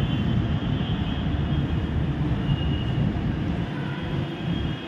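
A metro train rolls past beside a station in Ghaziabad on the Delhi–Meerut line, a loud steady low rumble with a faint high whine that stays heavy throughout and eases slightly near the end, with no speech.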